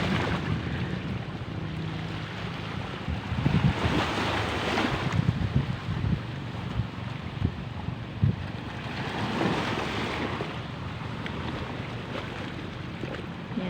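Rough sea waves and gusty wind during the northeast monsoon season, a continuous broadband roar with surging swells and buffeting wind noise on the microphone, no voices.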